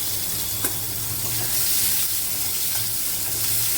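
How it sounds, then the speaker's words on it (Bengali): Half a medium onion sizzles steadily in hot oil in a pan over tempered spices and chili while bele fish jhal is being cooked, a continuous close hiss with occasional stirring and no talking. "এবার আমি পেঁয়াজটাকে খুব ভালো করে লাল লাল করে ভেজে নিই"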